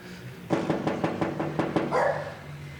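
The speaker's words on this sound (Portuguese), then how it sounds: "Os cachorros da família estão aqui no quintal, 2 cachorros." Two dogs in a house yard bark in a quick run of about seven sharp barks, fairly close, ending with a brief whine.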